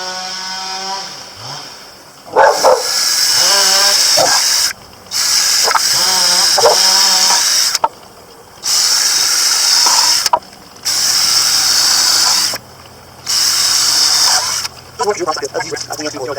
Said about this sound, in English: I'm going to go ahead and pre-drill all these